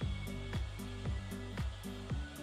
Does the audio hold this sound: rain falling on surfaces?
no